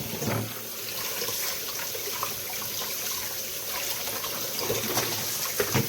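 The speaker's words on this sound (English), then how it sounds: "I'm going to rinse this until it gets, all the soap is off." Water running from a kitchen tap to rinse soap off a pot, a steady hissing splash with small clinks as the pot shifts in the sink, nearby and continuous, with no talk.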